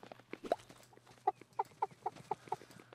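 Chickens in the farming game Staxel give a series of short, evenly spaced clucks, one louder call first and then a steady run of soft clucks over a low hum.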